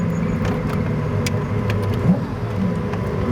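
A McLaren F1 supercar engine runs steadily at close range with a continuous low drone and a slight swell near the end, with faint clicks and rattles in the cabin.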